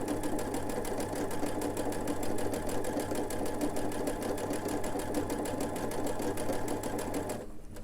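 Sewing machine fitted with a mini piping foot stitching piping cord, a fast, even rhythmic clatter of stitches running steadily close up, slowing and stopping at the very end.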